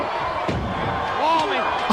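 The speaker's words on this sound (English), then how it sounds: "Oh, he's tossing chairs." Steel and wooden chairs slam down at a 1993 WWF wrestling event in Europe, a dull heavy thud under a constant roaring arena crowd, with commentators' voices woven through.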